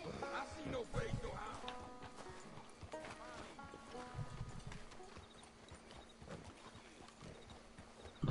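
Horse hooves clip-clop in a steady, uneven rhythm in the Red Dead western video game, fairly quiet and close, while players talk over them.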